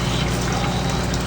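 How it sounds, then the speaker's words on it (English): Salt water poured off from a brine shrimp hatching jar, a continuous close splashing rush of liquid that holds steady and fairly loud throughout, with no voices. "I usually pour off about half"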